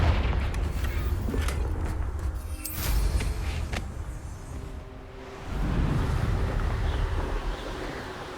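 The Confringo explosive spell in Hogwarts Legacy goes off as a loud booming blast with heavy rumble and crackle, fading briefly, then a second rumbling surge.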